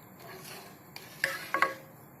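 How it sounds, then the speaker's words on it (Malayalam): A utensil stirs boiling milk in a pan while milk peda is being made, giving a few soft metallic scrapes and clinks against a quiet background, with a couple of sharper knocks near the end. "ഇടയ്ക്കിടയ്ക്ക് ഇളക്കിക്കൊണ്ടിരിക്കണം"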